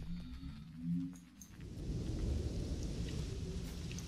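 In S.T.A.L.K.E.R.: Shadow of Chernobyl, a low rumble fades, then steady rain hisses in and continues at a moderate, even level with no talking.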